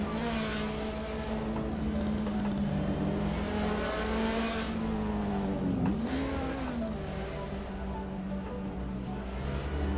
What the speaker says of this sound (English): This car has some power.